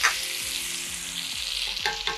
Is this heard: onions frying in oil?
yes